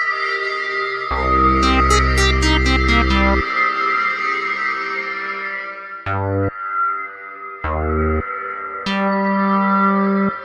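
Hotone Verbera pedal's convolution reverb washes over sustained synth chords and short stabs, with long, lush decaying tails between notes and no talk.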